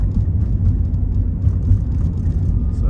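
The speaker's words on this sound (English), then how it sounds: "The car itself inside is kind of noisy," Inside a 2006 Ford Escape Hybrid on the move, a loud low rumble of road and engine noise fills the cabin continuously, with slight bumps and no talking.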